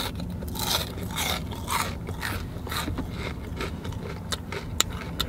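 Crispy French fries crunch between teeth in a run of sharp, close bites and chews, each crackling burst distinct, with no talking.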